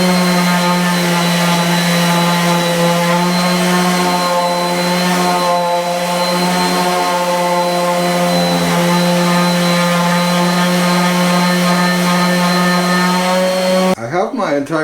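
An electric sander works on wood trim for a shed window, producing a loud, steady droning whine close by that runs unbroken for most of the stretch before cutting off near the end.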